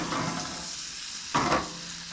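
Close, continuous sizzling of blackened shellcracker fish frying in a pan, with a brief louder crackle as the fillet is shifted.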